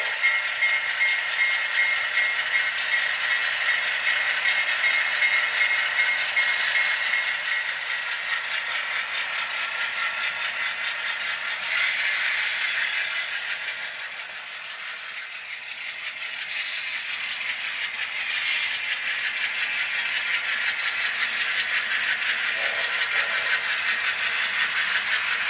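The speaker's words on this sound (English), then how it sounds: "Train 54 leaves for Wooten." An HO scale model train runs steadily along layout track on the East Raton and Santa Fe Railroad, a continuous close rattling hum of wheels and motor that dips briefly midway before resuming, with no talking.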